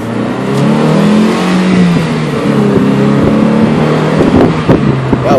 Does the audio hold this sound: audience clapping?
no